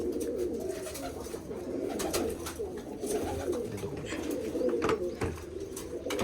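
Soft, repeated pigeon cooing close by, low throaty calls rising and falling over faint background noise and scattered clicks.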